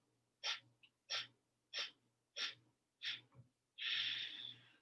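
Bhastrika yoga breathing with forceful exhales: five sharp, evenly spaced puffs of breath close to the listener, then a longer sustained blow, over a faint low hum.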